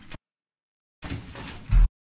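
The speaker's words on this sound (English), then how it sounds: "slamming of the door" A door slam sound effect: a brief click, a pause, then a rumbling movement that ends in a loud, abrupt thud, with silence on either side.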